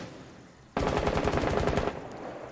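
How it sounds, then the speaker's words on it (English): A rapid, loud burst of automatic gunfire in Rainbow Six Siege, shooting out a window, starting abruptly and running steadily for about a second before cutting off, with no talk over it. "MLT, I shot that window above you."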